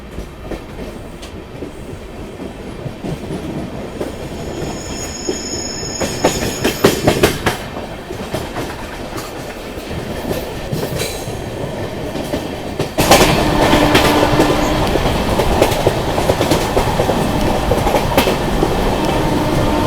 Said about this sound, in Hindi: एग्जैक्ट 2 मिनट रुकने के बाद हमारी ट्रेन निकल रही है तिल्दा नेवरा